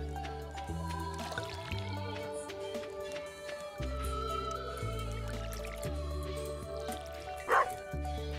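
Short yips from a small dog in the farming video game Stardew Valley, barely rising above continuous layered game music with chiming melodic tones.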